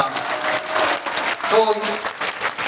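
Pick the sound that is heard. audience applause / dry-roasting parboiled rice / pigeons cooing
audience applause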